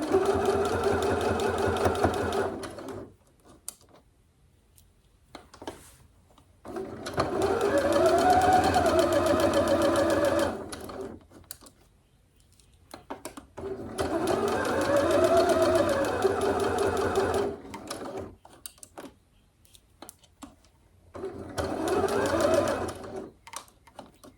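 A sewing machine stitches a bodice seam down from the collar in three long whirring runs with a shorter fourth, each separated by near-silent pauses, close and steady.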